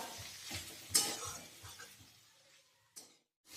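Mixed vegetable bhaji cooks uncovered in a pan with a faint sizzle and a few clinks and scrapes of stirring that fade toward near quiet, with one last sharp clink.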